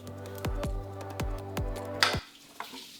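Engine coolant drips and splashes from a 2010 Honda Accord in a quick series of wet plops, then a brief spill and splatter onto the floor before it trails off into quiet.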